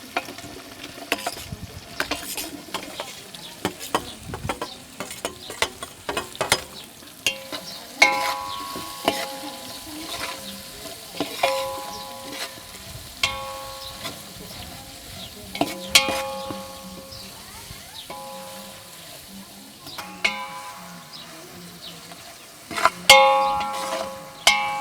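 Onions frying in a pan for a chicken dish at a Warli Adivasi feast: a continuous sizzle broken by repeated scraping stirs and metallic clangs and rings of the utensil against the pan.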